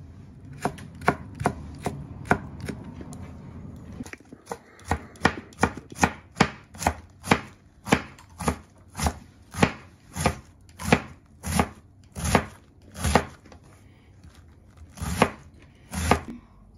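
A knife chops onion on a cutting board in steady, rhythmic strokes, about two dozen sharp close knocks at a quickening, even pace with a brief pause midway, heard alone without talk.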